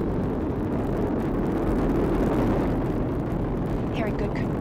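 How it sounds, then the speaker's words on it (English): Space Shuttle Discovery's two solid rocket boosters roar during liftoff, a steady, dense, loud rumble filling the whole span with no break. "Two solid rocket boosters now propelling the vehicle at 128 miles per hour."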